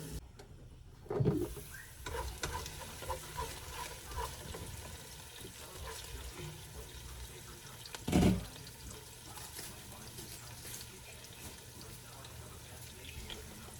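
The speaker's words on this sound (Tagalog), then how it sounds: "Yung sibuyas tsaka yung bawang. Mag-caramelize sila together." Onions and garlic caramelizing in a pan for palabok, a soft continuous sizzle with faint crackle close by, with two brief louder thumps of handling along the way.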